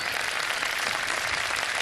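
A studio audience on a Ramadan iftar television show claps in a dense, even wash of applause. It is fairly loud and sustained throughout the brief moment, with no voices over it.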